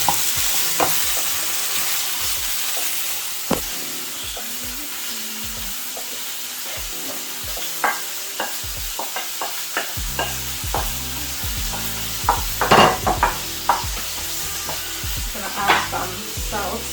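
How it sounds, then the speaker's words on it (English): Onions, garlic, ginger and spring onion frying in a pan with a continuous sizzle, punctuated by sharp clinks and scrapes of a utensil stirring; the stirring grows busier partway through, with no talking. "I'm just gonna add my onions, a bit of garlic, ginger, and spring onion in there"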